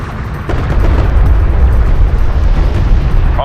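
A hostile ranged craft blows up in the real-time strategy game Homeworld: Deserts of Kharak, a loud, sustained rumbling explosion with a dense roar that holds steady for several seconds before a faint electronic blip at the end.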